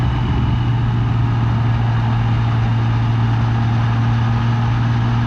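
A car engine holds a steady low drone in highway gear, cruising smoothly on a fairly smooth painted country road, Sandy Ridge, with a constant hum and road roar throughout and no speech.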